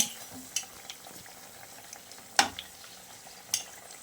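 Mirchi bonda, chilli fritters, frying in hot oil over a medium flame, giving a quiet steady sizzle with a few sharp utensil clinks and scrapes spaced through it.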